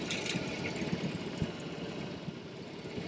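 A BMW R18 Bagger motorcycle cruises along at night, its engine a steady, low, continuous drone mixed with wind rush, with no talking.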